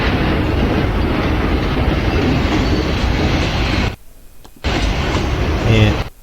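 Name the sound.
train carrying children, rolling on rails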